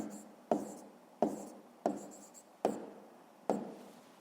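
Pen or pencil writing by hand on paper while working a fifth-grade maths exercise, five distinct strokes landing at a steady rhythm, close and fairly quiet, with no talking.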